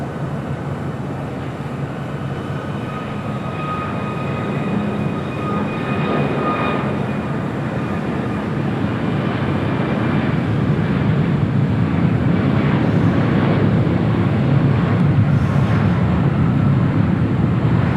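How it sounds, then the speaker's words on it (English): An American Airlines Boeing 777-300ER arriving from London Heathrow onto runway 25 left at LAX, a broad rising jet roar that swells steadily and holds loud throughout. "the American 777-300ER coming up from London Heathrow up next for arrival on 25 left"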